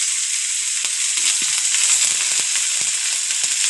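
Bay leaf, dried chilli, nigella seeds and chopped onion fry in mustard oil, giving a steady close hiss of sizzling with occasional soft stirring clicks underneath.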